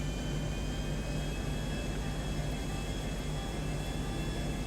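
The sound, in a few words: airplane landing in Grand Theft Auto V video game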